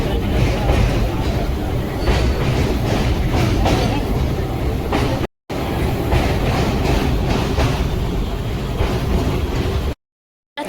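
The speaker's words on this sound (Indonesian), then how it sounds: "Ini baru keretanya jalan lagi teman-teman." A train on an Indian rail journey from New Delhi rolls along the tracks with a loud, continuous rumble and faint rhythmic clatter, heard from inside, with two brief dropouts to silence.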